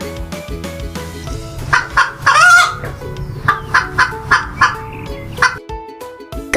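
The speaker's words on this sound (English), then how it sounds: "Hen." A farmyard hen clucking in a series of short, bright calls clustered through the middle of the clip, set over steady, cheerful background music with no talking.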